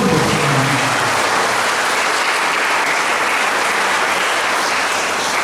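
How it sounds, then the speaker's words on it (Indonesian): Loud, sustained applause from a large congregation at a Christmas Eve Mass, dense clapping that fills the whole stretch and tapers slightly toward the end. "Kita beri tepuk tangan untuk"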